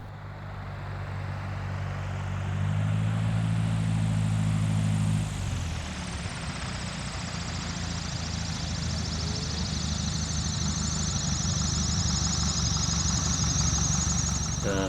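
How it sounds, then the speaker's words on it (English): A Cessna 170 tailwheel airplane fitted with stall equipment drones steadily in flight, a loud continuous engine and propeller roar heard from inside the cabin, its pitch shifting as the power changes partway through. "Now I'm flying a Cessna 170, also"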